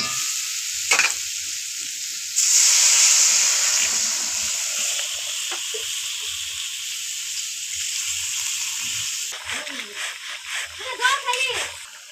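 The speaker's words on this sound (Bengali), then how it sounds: "এবার দিয়ে দেবো জল।" Water hits a hot pan of fried cauliflower and eggplant with a sudden loud hiss that eases into a steady, fading sizzle, with faint voices and clinks near the end.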